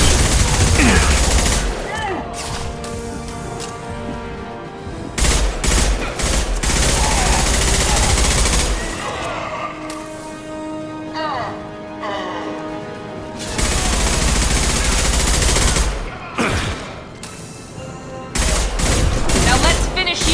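Repeated bursts of gunfire and heavy weapon blasts in Mass Effect 2 Legendary Edition combat, loud and dense, with stretches of rapid shooting separated by brief lulls and a voice calling out at times.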